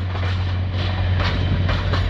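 A freight train in the Greater Toronto Area rolls past close by with a steady low rumble and faint rhythmic clatter of wheels, no voices.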